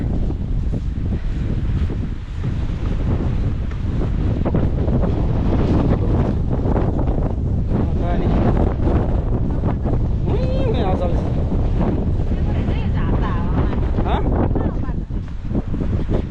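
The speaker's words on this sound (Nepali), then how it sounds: "हावा चाहिँ एकदम चलिरहेको छ आज" Strong, steady wind buffets the microphone on a hilltop in the UK, a continuous loud rumbling roar with gusts running throughout.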